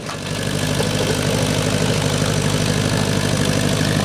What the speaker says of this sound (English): cleaning up the area with the tractor just to kind of consolidate some of those piles